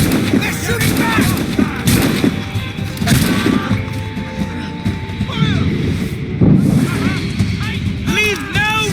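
Cannon and musket fire crack and boom repeatedly in a naval battle in the video game Assassin's Creed Rogue, heavy blasts and crashes landing amid shouting voices and chaotic battle noise.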